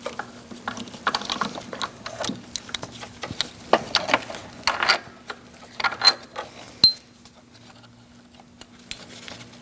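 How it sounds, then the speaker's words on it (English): A ratchet with a 16mm socket and extension works bolts loose on a 2000-2006 Mini Cooper, with irregular bursts of clicking pawl ticks, light metallic taps and clinks close by, and no voices. "Using a 16mm socket and an extension, I'm going to get to these two bolts, this one and the one in the back, and remove them"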